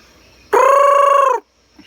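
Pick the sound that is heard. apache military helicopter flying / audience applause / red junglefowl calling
red junglefowl calling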